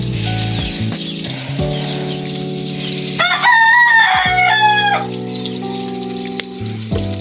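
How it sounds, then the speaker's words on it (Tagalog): Eggs sauté in a pan over a wood fire with a steady close sizzle, while a rooster crows loudly for about two seconds in the middle. "magigisa po ako ng itlog pang almusal niya"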